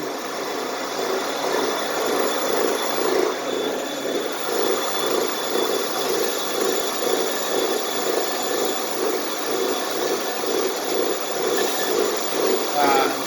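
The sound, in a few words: steel wire wheel removing carbon buildup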